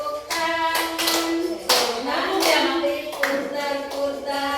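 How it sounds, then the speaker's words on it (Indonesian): Children and adults clap their hands together in a lively group activity, repeated bursts of claps over a steady hum of voices, with a song or chant running underneath. "Tepuk tangan."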